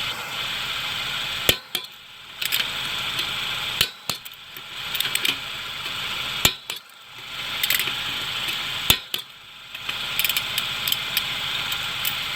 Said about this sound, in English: I'm going to go ahead and torque these lugs to 80 foot-pounds